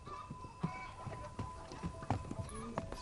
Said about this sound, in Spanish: Hombre, son burros